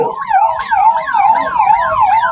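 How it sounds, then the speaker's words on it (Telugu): A loud, close police siren wails continuously, rising and falling in quick repeated sweeps, with no other sounds over it, during a police mock drill at Ongole railway station. "గమనించండి మనకి సైరన్ వినిపిస్తుంది"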